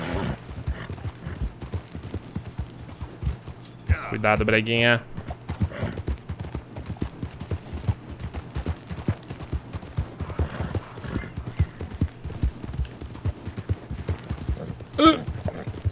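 Horse hooves in the video game Red Dead Redemption 2 beat a rapid, continuous clip-clop rhythm close up while someone talks over the galloping.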